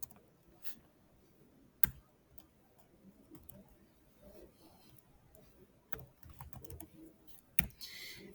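Keys pressed on a calculator while entering an expression, heard as faint, sparse clicks and taps with a few sharper knocks over a quiet background.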